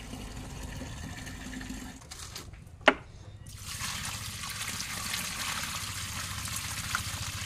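Water from a pipeline connection pours into a bucket, a faint trickle that gives way to a steadier, fuller rush of flowing water after a sharp knock, heard alone without talk.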